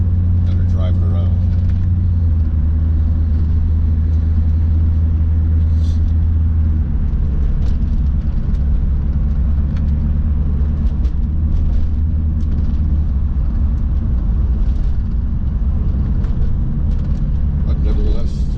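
A 1994 Chevrolet Corvette C4 cruises along with a low engine rumble and road drone, heard from inside the cabin while someone talks over it throughout.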